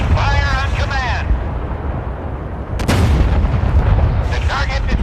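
Naval guns fire in the Force of Warships warship combat game, heavy booming blasts with rumbling low-end roar, one big report near the middle amid continuous loud battle noise and bursts of radio-style voice chatter.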